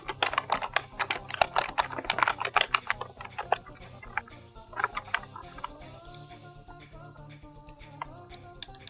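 Typing on a computer keyboard while entering text in the Figma design app, a dense run of quick clicky keystrokes in the first few seconds thinning to scattered taps, close and clear with no talk.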